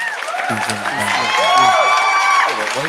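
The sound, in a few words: round of applause and cheering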